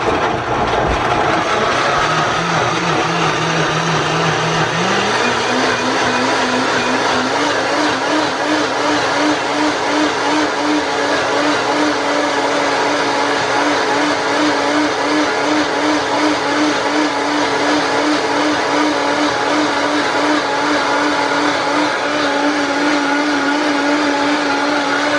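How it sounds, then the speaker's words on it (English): A Vitamix blender runs continuously in a home kitchen, a loud, steady motor whir with a pitch that climbs after a few seconds and then holds at a higher speed for the rest of the blend, with no voices. "Now we're going to blend it. This is a Vitamix blender"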